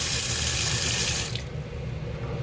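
Tap water runs steadily into a sink as blueberries soak, a loud bright rush that cuts off about halfway, leaving quieter trickling and dripping.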